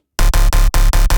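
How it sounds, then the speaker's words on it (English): Gritty 8-bit style bass synth with phase distortion and heavy OTT multiband compression, playing six loud, punchy, evenly spaced notes with brief gaps after a short silence, alone with no voices. "it's actually called 8-bit, because it kind of sounds like a bass 8-bit thing"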